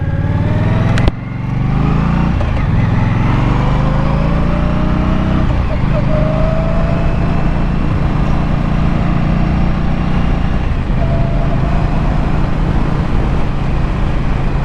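A 2023 Indian Scout motorcycle cruising through open countryside, its engine holding a steady, loud, close drone under constant wind rush, with a brief sharp knock near the start and slight pitch shifts as the throttle varies.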